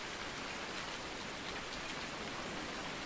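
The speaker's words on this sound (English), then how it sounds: "Oh, and it's gonna rain." Rainfall in Farming Simulator 19: a steady, even hiss of rain on surfaces, quiet and constant with no other sounds.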